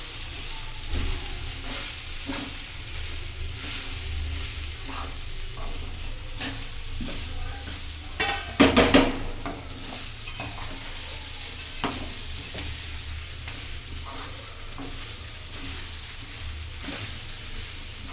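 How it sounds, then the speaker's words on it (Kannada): Flattened rice (avalakki) being stirred with roasted gram powder in a hot pan, a steady soft scraping and sizzling throughout with a brief louder clatter of the spoon midway. "ಹುರ್ಗಡ್ಲೆ ಪುಡಿ ಮಾಡಿ ಇಟ್ಕೊಂಡಿದ್ದೀನಲ್ಲ ಅದನ್ನು ಹಾಕ್ತಾ ಇದ್ದೀನಿ ಫ್ರೆಂಡ್ಸ್ ಇವಾಗ ಚೆನ್ನಾಗಿ ತಿರುವಾಡಬೇಕು ಮಿಕ್ಸ್ ಮಾಡ್ಕೋಬೇಕು"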